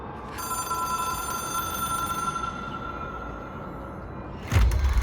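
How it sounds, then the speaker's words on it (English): Telephone bell rings steadily inside the video game Control, a sustained metallic ringing under a low ambient hum that cuts off abruptly near the end with a deep thud. "It is a phone."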